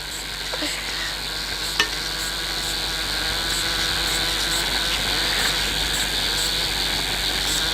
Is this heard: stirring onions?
yes